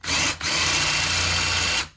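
An electric drill runs steadily for about two seconds, close and loud, during repair of a Schwinn rear fender with a chrome stay, with a brief dip in the whine near the start.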